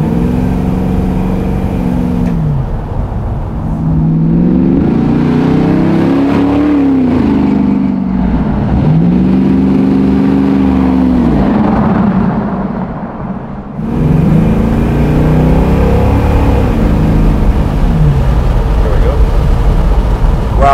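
A 600-horsepower cammed LS V8 in a 1966 Chevelle restomod on a Roadster Shop chassis revs up through several pulls, its loud choppy exhaust rising and falling in pitch with brief lifts between bursts.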